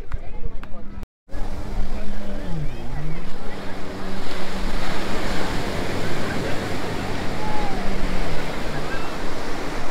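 Ocean surf at Calangute Beach in North Goa rolls in a steady, loud wash with heavy wind buffeting the microphone, after a brief dropout near the start.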